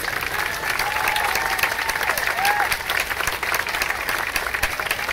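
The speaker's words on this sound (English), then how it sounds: "So please join me to clap our hands to show our gratitude to frontline workers." Audience at a koto ensemble concert evening applauds in gratitude for frontline workers: sustained, even crowd clapping throughout, moderately loud, with a faint murmur of voices underneath.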